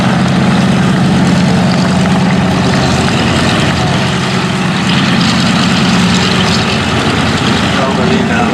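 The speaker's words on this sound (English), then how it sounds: "this is a very maneuverable transport aircraft" Lockheed Electra transport aircraft at the Flying Legends air show at Duxford, its propeller engines giving a loud, steady droning roar that holds for the whole stretch, with a talking voice faintly mixed in.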